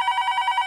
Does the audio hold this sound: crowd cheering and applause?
no